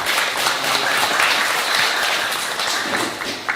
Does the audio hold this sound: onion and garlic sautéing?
no